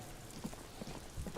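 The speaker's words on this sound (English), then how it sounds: "It's raining again." Steady rain in the video game Disco Elysium, a soft, faint, even patter with a few scattered drop-like taps and no voices.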